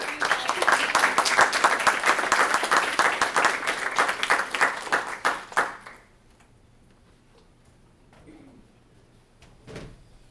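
Audience applause in a student senate chamber welcoming newly sworn-in senators, a dense sustained burst of clapping lasting about six seconds before cutting off into quiet room tone with a faint thud.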